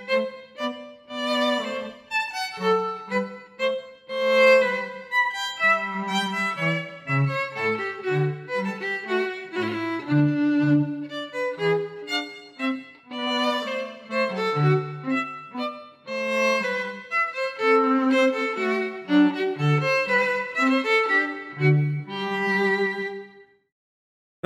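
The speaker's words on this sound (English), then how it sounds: "This andante, musical terminology for moderately slow, was transcribed by Leopold and sounds like this." Mozart's earliest andante, composed at age five, is played as a moderately slow, delicate melody of plucked or struck keyboard-like notes with a light bass line, continuing steadily before ending cleanly.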